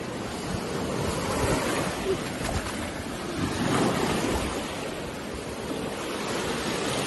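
Ocean surf on a beach in Spain, a steady broadband wash of breaking waves with gusts of wind buffeting the microphone, fairly loud and continuous with no talking.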